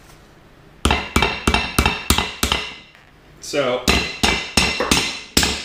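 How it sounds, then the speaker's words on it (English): Sway bar end links being hammered onto their bushings during a three-piece sway bar install, two bursts of sharp, ringing metallic blows in quick rhythm, close and loud, with a brief scrape between them and a single spoken word. "It actually helps a lot to get these hammered on to the bushings before you get the bar placed up in the vehicle"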